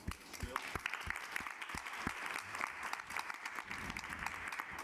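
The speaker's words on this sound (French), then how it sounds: "On va vous applaudir" Applause from an audience at a forum on promoting human rights: moderately distant, continuous clapping from a room of attendees, with a few sharper individual claps standing out near the front.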